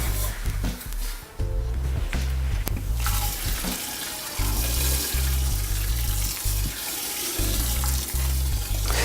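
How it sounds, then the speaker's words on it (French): Crushed malt grain poured into hot mash water for homebrewed beer gives a steady, close rushing and splashing pour with a few brief pauses and some low bumps throughout. "on va verser notre grain qui est déjà concassé"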